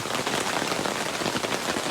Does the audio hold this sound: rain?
yes